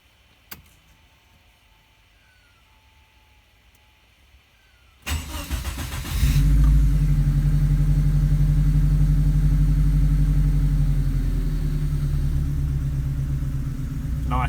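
A Subaru EA82T turbo engine running Megasquirt MS3x management starts hot with a sharp crank and catch, flares up in revs, then drops into a loud, steady, close idle that lasts for several seconds.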